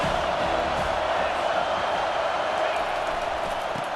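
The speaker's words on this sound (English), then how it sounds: "This crowd trying to make life miserable for this offense." A stadium crowd in the EA Sports College Football 25 video game roars in a constant, loud wash of cheering and noise that stays steady throughout.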